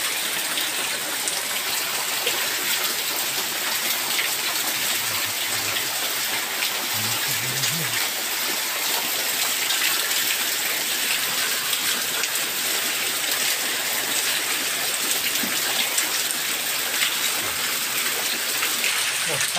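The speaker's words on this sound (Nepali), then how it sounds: "पुरै पानी पर्दा पर्दा पर्दा यसरी ओभरफ्लो भइसकेको छ, पुरै जलमग्न भइसकेको छ" Heavy rain pours down on a flooded Nepali village, a dense, steady hiss of falling water that fills the whole stretch without letup, with faint low voices briefly underneath.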